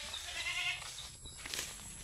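A mother goat on a rural farm bleating faintly over steady low background noise, with a couple of short wavering cries.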